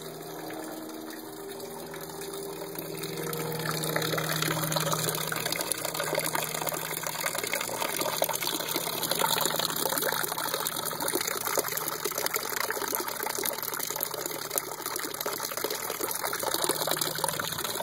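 A mucky garden fountain by a gazebo runs with a steady, dense rush of flowing water, swelling a little after the first few seconds and holding continuous and close throughout, with no one speaking.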